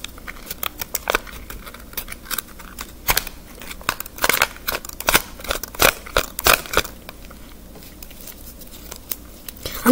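Origami Buddha pop-up paper card being opened, a series of short, crisp paper snaps and rustles in irregular bursts, close and fairly quiet, with no voices.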